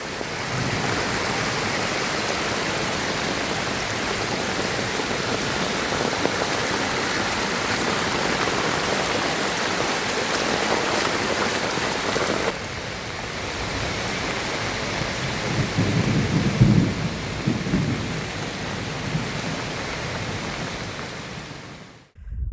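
Heavy rain pours down while rainwater rushes along a road in a dense, steady roar of water that continues for over twenty seconds. It shifts slightly partway through, and no voices are heard.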